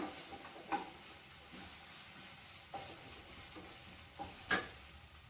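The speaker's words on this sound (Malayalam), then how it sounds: "ഇഞ്ചിയും വെളുത്തുള്ളിയും പേസ്റ്റ് ആ പച്ചമണം മാറുന്ന വരെ നമുക്കൊന്നും കൂടെ ഇളക്കാം" Ginger-garlic paste stirred in a hot pan, a faint steady sizzle with a few soft scraping spoon strokes spaced apart, no voices.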